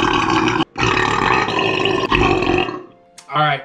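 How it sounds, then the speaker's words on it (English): A loud, long, wet burp rumbles out, pauses briefly, then continues, followed by a shorter low grunting burp after a moment of quiet. "Real juicy burp."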